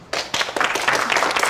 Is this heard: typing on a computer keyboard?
no